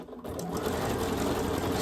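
A Bernina sewing machine stitches a zigzag, a dense rapid mechanical chatter that starts after a brief pause and keeps going steadily at moderate volume.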